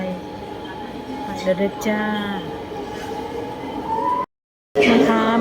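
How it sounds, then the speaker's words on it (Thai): A Shanghai subway train bound for Jinqiao Coach Station rumbles along steadily inside the car while a person talks over the noise, with a brief dropout near the end. "มานั่งรถไฟใต้ดินมื้อนี้นะ"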